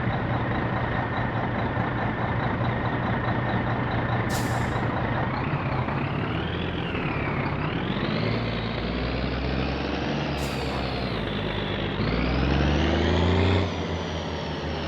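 A sewage truck in the driving game My Summer Car runs with a steady, loud diesel drone, its engine pitch rising and falling through gear shifts, with two sharp hissing bursts of air brakes along the way.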